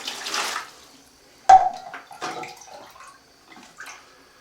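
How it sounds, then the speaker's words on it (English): A small plastic cup scoops water out of a toilet bowl, making a sharp splash followed by several softer sloshing and trickling pours, close and fairly loud in a quiet room. "we're going to take as much water as we can out of the bowl."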